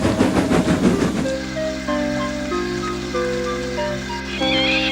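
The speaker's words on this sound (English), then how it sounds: "Edward puffed and pulled his hardest, but his wheels kept slipping and he just could not start the heavy train." A steam locomotive in the Trainz video game puffs in rapid, hissing chuffs for about a second while its wheels slip under a heavy train, followed by sustained steady tones with no talking.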